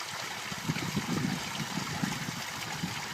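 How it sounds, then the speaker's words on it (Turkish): An old village fountain in Malkara, flowing for 76 years, pours a steady stream of water with gurgling, splashing bursts, close and continuous with no talk. "76 yıldır akan bu güzel çeşme"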